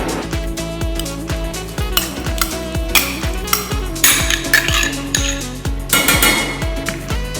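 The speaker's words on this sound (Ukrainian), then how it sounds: "Додаємо сіль та лимонну кислоту і все ретельно перемішуємо." Butter sauce with chopped boiled eggs, greens, salt and citric acid being stirred in a pot, giving a steady run of repeated metallic clinks and scrapes of utensil on cookware, fairly close and clear with no talk.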